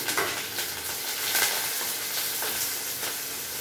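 Cumin seeds, curry leaves and green chillies frying in hot oil for a tempering, a loud steady sizzle and crackle throughout with occasional sharp pops, no talking.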